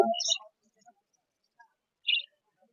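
Pet lutino and albino budgerigar-type birds give a couple of short, sharp chirps, one right at the start after a handling noise and another about two seconds later, in an otherwise quiet room.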